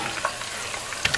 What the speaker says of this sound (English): I'm going to show you these guys frying over here now.